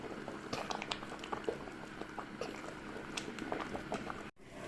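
Lasagna noodles boil in a pot of water, a steady close bubbling and patter running throughout with small pops and clicks, no voices, cut off by a brief dropout near the end.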